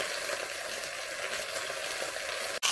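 Tomato, half an onion, spice cube, black pepper and salt simmer in a small pan, giving a steady close sizzle and bubbling hiss, with a brief knock at the end.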